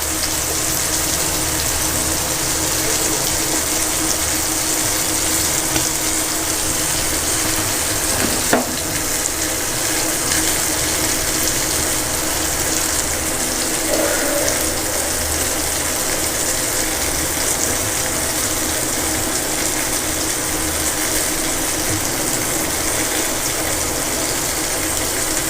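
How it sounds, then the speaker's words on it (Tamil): Fish pieces go into a boiling Tamil fish curry, a loud continuous bubbling and sizzling wash that stays even throughout, with a brief clink or two of a utensil near the middle. "இப்போ நம்ம வந்து மீனை சேர்த்துக்கலாம்."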